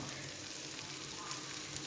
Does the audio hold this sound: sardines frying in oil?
yes